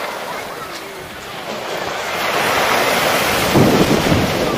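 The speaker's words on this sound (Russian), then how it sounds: "Ну да, ветерочек такой поднялся." Wind gusting along a stormy seafront at Lazarevskoye in the evening, a steady broadband roar that builds and thickens midway, blending with surf, loud and continuous with no talk.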